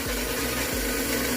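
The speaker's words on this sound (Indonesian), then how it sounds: "lihat, saya hidupkan bor" A loud, steady motorized whir of an electric drill powered by a two-stroke generator, running continuously, with a constant buzzing hum and slight pitch dips.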